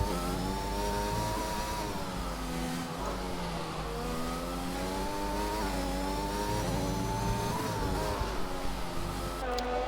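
McLaren Formula 1 car engine in a racing video game at a Spanish circuit, a loud continuous high-revving whine rising and falling through gear changes, close and steady for the whole stretch.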